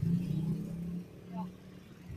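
Motorbikes speed past a pedestrian lane on a Monday-morning street in Comembo, Pateros, their low engine drone loudest at the start and then easing off, with a second swell midway under steady traffic noise.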